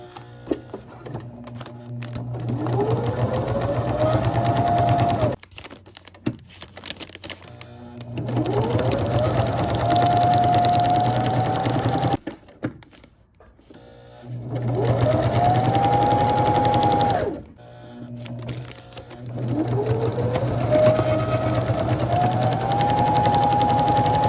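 A sewing machine stitches a small fabric piece onto a DIY gift bag in four long runs, its motor whirring up to a steady buzzing drone, stopping briefly between bursts, close and loud with no talking.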